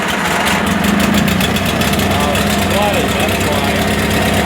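A tractor engine runs at a steady mid-pitched idle, rough and close, with a constant rumble and vibration throughout.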